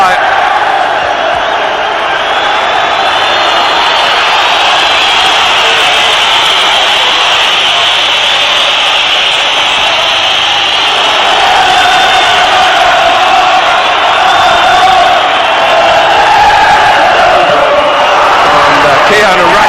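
A football crowd at the Everton vs Liverpool FA Cup tie of 1990/91 keeps up a loud, steady roar for the whole stretch, swelling slightly toward the end, with no pause or break.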